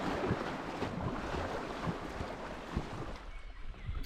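River rapids on the Koiva roar in the distance as a boat approaches on the water, a steady broadband rush with faint wind buffeting and no voices.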